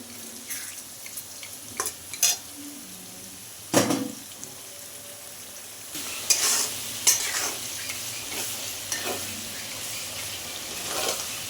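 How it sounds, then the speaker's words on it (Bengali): Chopped tomato is tipped in among softened onion in a hot pan, giving a soft sizzle with scraping stir strokes and a few louder knocks and clatters of a spoon over a low background hiss. "পেঁয়াজটা খুব সুন্দর গলে গেছে, দিয়ে দিচ্ছি টমাটোর কুচি।"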